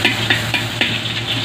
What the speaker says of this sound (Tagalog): Gisa natin sa bawang